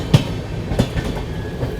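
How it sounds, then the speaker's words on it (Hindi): The Kerala Express passing on the Sevagram curve, heard from aboard a train with a steady rumbling roll and periodic clickety-clack wheel thumps over rail joints, fairly loud and without talk. "क्रॉसिंग भी मिल रही है किसी ट्रेन के साथ।"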